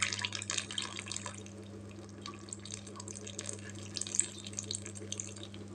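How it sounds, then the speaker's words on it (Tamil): Tamarind water trickling and splashing into brinjal kulambu simmering in oil, a soft continuous pour over a steady low hum, close by with no talk. "கொஞ்சமாக புளி தண்ணி சேர்த்துக்கிறேங்க."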